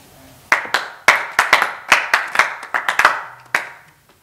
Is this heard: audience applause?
yes